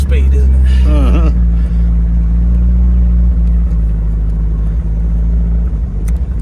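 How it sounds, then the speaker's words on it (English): A 1976 MGB Roadster with a 4-speed gearbox drives along, its engine a loud, steady low rumble close by. A voice talks briefly near the start over the running motor. "now that I've learned to drive again, we're at the helm of Mike's 1976 MGB Roadster"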